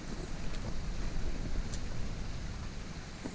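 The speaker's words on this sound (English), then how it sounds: "That's a waterfall, isn't it?" A waterfall in the Bunya Mountains gives a continuous broadband rush of falling water, steady and fairly close, with no talking over it.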